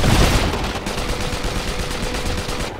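Gunfire in a battle in the video game Iron Harvest: dense, continuous rattling bursts of automatic fire, loud and close, filling the whole stretch with no speech.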